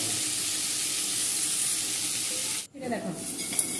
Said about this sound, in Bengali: এর কড়াইতে তেল হয়ে গেছে, তেলটা গরম করা হয়ে গেছে। এর মধ্যে কাঁকড়াগুলোকে ছেড়ে দেবো।